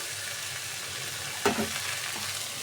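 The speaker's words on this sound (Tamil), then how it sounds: "அதை தான் போட்டு நம்ம வதக்குறோம்." Coconut pieces sautéing in a pan for mint chutney, a faint steady sizzle broken by one sharp stir or scrape near the middle.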